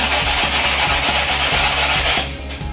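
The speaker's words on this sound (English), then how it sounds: "after you've scored and broke your tile, you have the rough edge, you take the sandpaper" Sandpaper rasps rhythmically back and forth over the rough, freshly broken edge of a ceramic tile, a loud, close, gritty scrubbing that stops abruptly near the end.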